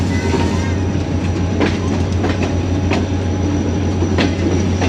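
A train runs slowly along a loop line in Sindh, with a steady low rumble throughout and periodic wheel clicks and faint squeals over the tracks, loud and close.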